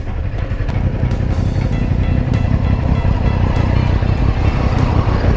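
Road traffic passing by: a loud, continuous low rumble of engines and tires that stays steady throughout, with no voices.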